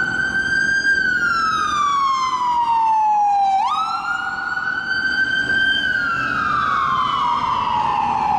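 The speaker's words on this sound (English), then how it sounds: "these sirens are gonna be going all over the streets of America very soon" A loud wailing siren sweeps steadily up and down in pitch, continuous and close, with rich harmonics and no talking.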